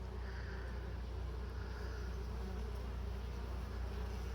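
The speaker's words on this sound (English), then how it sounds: "Those wasps are pretty relentless." Honeybees and raiding yellow jackets buzz continuously at a beehive, a dense close drone of many wings holding steady throughout with no voices.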